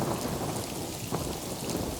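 Steady rain falls on a surface with a low rumble of thunder rolling underneath, continuous and fairly close throughout, no voices.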